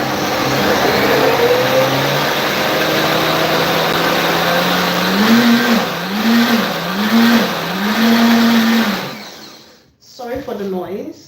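A kitchen blender whirs loudly and close for about nine seconds, its motor pitch wobbling up and down several times as the contents churn, then it cuts off abruptly and briefly starts again.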